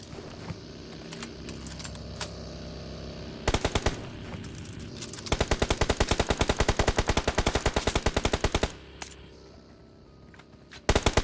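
Rapid automatic gunfire in a shooter video game, loud close bursts of fast, evenly spaced shots, including one long sustained volley, with a few scattered single shots around them.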